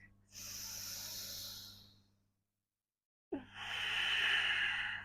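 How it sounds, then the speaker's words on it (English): Slow, deep yoga breaths are drawn close to the microphone: a long airy inhale and exhale, a full pause of silence, then another soft, hissing breath that swells and holds. "Let's take 3 deep breaths here."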